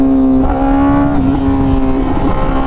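Honda Fireblade RRR SP motorcycle with a full titanium exhaust runs loud and close, its raspy, steady engine note holding a strong buzzing tone with slight pitch wavers throughout.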